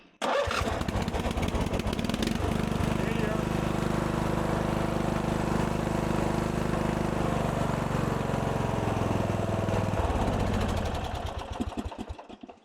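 A 1997 Murray riding mower engine, newly fitted with a repaired starter, cranks and catches, then runs loud and steady close by for about ten seconds before winding down and stopping.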